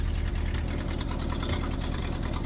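A dump truck's engine idles with its bed raised and a coolant leak behind the thermostat, a steady, close, rumbling chug with rapid, even low knocks and no voices.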